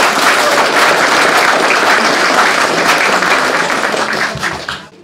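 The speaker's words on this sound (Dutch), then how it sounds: "we doen nog een keer een applaus voor deze grandioze mensen" An audience at a local heritage society gathering gives loud, sustained applause, a thick continuous roar of clapping that tapers off at the end.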